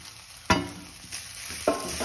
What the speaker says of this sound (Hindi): अब अच्छी तरह हम इसको मिला लेंगे।